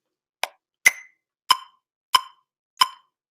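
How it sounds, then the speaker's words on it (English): Count-in clicks from a recording app's metronome before a take: five crisp, evenly spaced ticks, close and clean against silence. "Listen for the 4 clicks."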